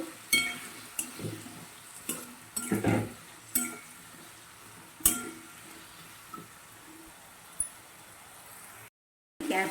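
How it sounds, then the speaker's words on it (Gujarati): A spoon stirs a dry sweet potato dish seasoned with fasting salt in a pan, making a series of uneven scrapes and clinks against the metal over a faint background sizzle, with no talking. "બરાબર આપણે મિક્સ કરી દેવાનું છે"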